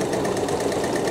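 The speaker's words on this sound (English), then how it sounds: "so I am going to just sew this" A sewing machine runs steadily while a dress is stitched from an oversized tee, giving a continuous close whirring hum with a fast, even mechanical pulse and no talking.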